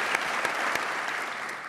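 Audience applause at a 2018 Oregon sports awards ceremony, a dense steady wash of many hands clapping that holds through the moment with no voices over it.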